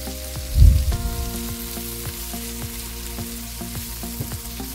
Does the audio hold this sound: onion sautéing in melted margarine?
yes